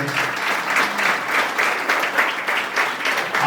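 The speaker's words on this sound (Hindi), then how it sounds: "प्लीज ताली हो जाए" An audience claps steadily at an NGO release event with music and film presentation, a dense, even wash of many hands lasting throughout with no talk over it.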